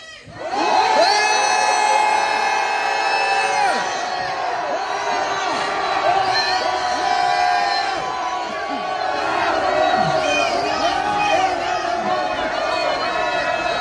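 A loud crowd at a street rally against impeachment roars a sustained shout and cheer, voices whooping and bellowing together at a steady high level for several seconds with no single speaker.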